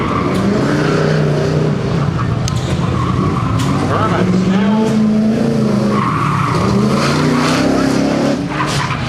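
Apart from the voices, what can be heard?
race car engine and tires on course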